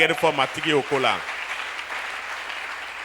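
A church congregation breaks into applause and cheering, a broad wash of clapping and voices that swells right after someone speaks and continues steadily to the end.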